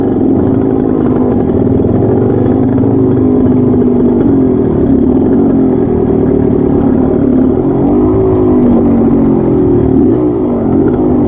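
A Suzuki TS125 trail motorcycle engine runs loud and close on a trail ride, holding a steady buzzing drone with gentle rises and dips in pitch as the throttle is worked, continuous throughout.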